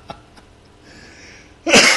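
After near silence with a few faint clicks, a single sudden, loud cough bursts out close by.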